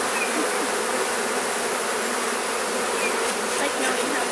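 Honey bees buzz densely around an open hive, a loud, close, unbroken drone of many wings with no voices over it.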